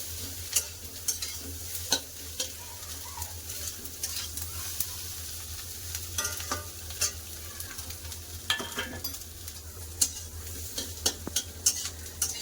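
Fried bitter gourd and fish roe are stirred into pumpkin in a hot pan. A steady sizzle runs under repeated quick scraping and clinking of a spatula, close up and continuous, with no voices.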